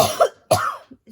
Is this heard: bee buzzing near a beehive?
no